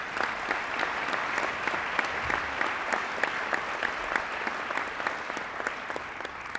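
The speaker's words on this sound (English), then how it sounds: "let's give them a round of applause." A civic audience at a city's State of the City address breaks into sustained applause, dense and steady clapping from a sizable crowd that holds an even level throughout.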